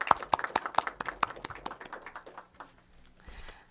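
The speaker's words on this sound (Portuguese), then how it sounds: "uma salva de palmas para as mulheres" Applause at a women's commission meeting: a handful of sharp, distinct claps at first, thinning and fading out within a few seconds, leaving near quiet.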